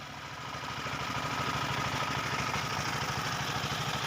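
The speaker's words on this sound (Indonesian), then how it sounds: "Ini terlihat mesin dompeng 24 PK yang digunakan sebagai penggerak" A 24 HP dompeng diesel engine powering a homemade portable sawmill runs steadily, its low rhythmic thumping chug continuous and close, with no voices over it.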